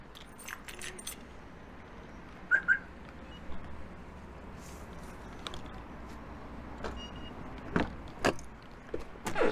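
Keys jangle as a car is unlocked outdoors, with sharp metallic clinks in short bursts, a couple of louder clicks and chirps against quiet street background noise.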